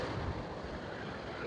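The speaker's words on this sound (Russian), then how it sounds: "Вот такие волны." Sea waves break on a sandy bay shore in strong wind, with whitecaps on the water. A continuous rushing surge is heavily buffeted by loud, steady wind noise on the microphone.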